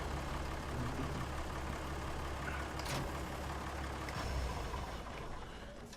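A Deutz Fahr DX4 tractor engine in Farming Simulator 19 drones steadily at a low, constant idle-like hum, close and loud from start to finish with no talking over it.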